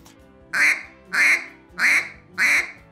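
A duck call blown with a faster burst of air and the tongue raised gives four crisp, evenly spaced quacks, loud and close with nothing else sounding.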